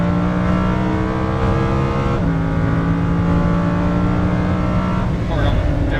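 A Lamborghini Huracan LP610-4 engine roars under hard acceleration on a track, a loud, close, steadily climbing drone with a sharp pitch drop at a gearshift, while an instructor's voice talks over it.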